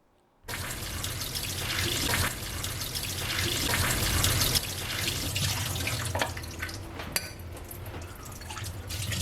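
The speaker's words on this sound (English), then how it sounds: "So the next step is to rinse them thoroughly again with the water." Sprouted yellow peas are rinsed under running water in a basket. A steady, fairly loud flow of water begins abruptly and splashes continuously.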